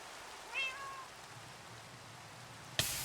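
A house cat gives one short meow, rising then falling, faint and slightly distant over a quiet room-tone background, followed by a sudden bump near the end.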